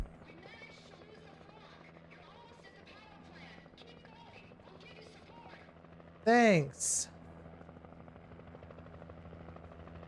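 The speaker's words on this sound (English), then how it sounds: "Oh, look, I hear the helicopter." Helicopter in a video game: a steady low rotor thrum hums underneath talking voices, interrupted by a short, loud rising electronic burst partway through.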